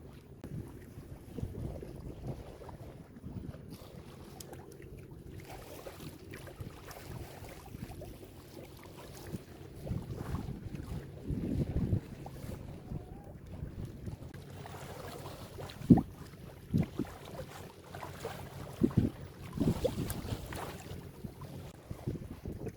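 A sailboat slides along at about 4 knots near Great Keppel Island, its hull sloshing softly through the water while steady wind rushes across the microphone, with no talking.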